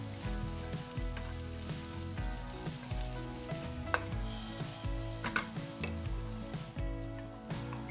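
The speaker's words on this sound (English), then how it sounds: "Next, add the zucchini to the onions and cook for about 5 minutes." Sliced zucchini and onions fry in a small amount of oil in a pan, crackling and sizzling steadily up close, with occasional clinks and scrapes from stirring and no voices.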